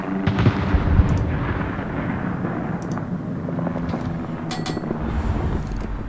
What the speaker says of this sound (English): I'm trying to help those guys in the cap out by shooting those guys coming in